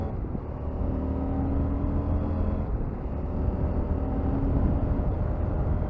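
A 2022 CFMOTO 800MT motorcycle accelerates steadily up through the gears from second toward fifth, its engine a continuous, fairly loud droning hum heard from the rider's position with no speech.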